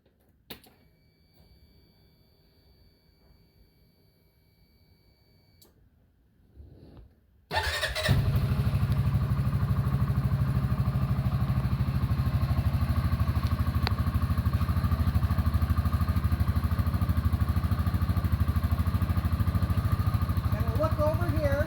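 A CFMoto ZForce 600 sits quiet with faint ticking, then its engine cranks and catches abruptly, settling into a loud, steady, close idle that runs on unchanged to the end.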